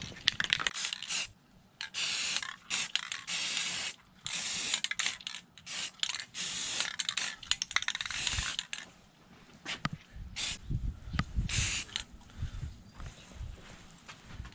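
Bursts of spray paint hiss close by as a boat's fuel pump from a 350 engine gets painted, short repeated blasts separated by brief pauses and some handling clatter.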